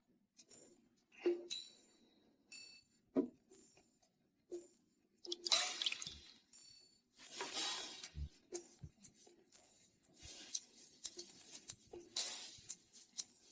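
Water drips and splashes in small irregular bursts while ink is being prepared, with faint clinks in between against a quiet background.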